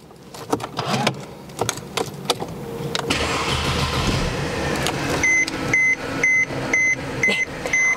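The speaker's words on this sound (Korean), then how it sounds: "시동 걸어서 엔진 소리 들으면서 추가적인 옵션 설명드리도록" A 2011 Mercedes-Benz C200 CGI W204 with 66,000 km, heard from inside: key and switch clicks, then the engine starts and settles into a smooth idle, with a repeating dashboard chime beeping over it.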